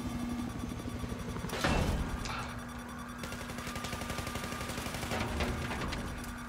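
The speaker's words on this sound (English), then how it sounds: "I shot at him once or twice." Gunfire in Battlefield 4 during helicopter gameplay: a loud close burst of shots, then rapid, steady automatic fire over a constant engine hum, with no talking.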